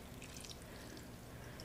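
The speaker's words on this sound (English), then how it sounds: "So I'm gonna go ahead and pour this dressing" Salad dressing poured over a cabbage mixture for an Asian tofu slaw, a faint continuous wet trickle and drip with a low background hum, no talking.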